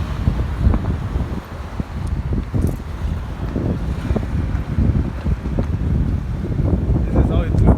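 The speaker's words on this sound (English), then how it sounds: "It's a little bit windy and it's summertime today." Summer wind gusts buffet the microphone on a city street in Cape Town, a steady broadband rumble with uneven swells and faint street activity beneath.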